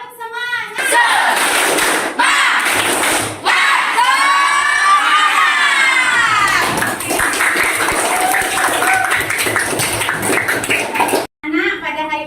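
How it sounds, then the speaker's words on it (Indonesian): Schoolchildren in an Indonesian classroom doing a rhythmic spirit-clapping chant, loud group shouting and claps in bursts with brief pauses, a teacher's voice leading between them. "kita akan mengadakan tepuk semangat"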